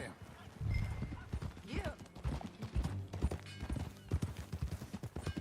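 Horse hooves clip-clop steadily while riding in the video game Red Dead Redemption 2, a rhythmic close trot with creaking tack, under brief speech and a short whinny.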